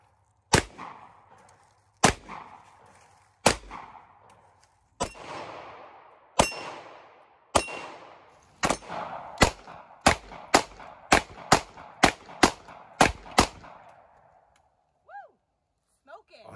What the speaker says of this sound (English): I'm out here at the range today and I'm going to be shooting the Glock 19.